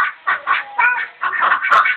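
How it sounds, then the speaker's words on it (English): Several ducks, including a mallard, quack in short bursts at a house's front door, the loud nasal calls coming in quick uneven clusters with brief gaps between them. "We have our attack ducks on duty."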